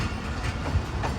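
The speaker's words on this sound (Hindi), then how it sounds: "फाइनली 9:02 पर ट्रेन हमारी पहुँच रही है लांडी जंक्शन रेलवे स्टेशन पर" The Khushal Khan Khattak Express rolls into Landi Junction station in Pakistan with a steady, close, rumbling rattle of wheels and carriages, no voices over it.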